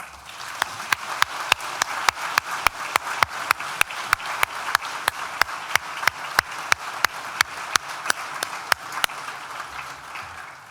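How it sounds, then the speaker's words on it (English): An audience at a university law school graduation ceremony applauds steadily, dense clapping with sharp individual claps standing out, continuous and fairly loud throughout. "please join me once again for a big, collective, well-deserved round of applause"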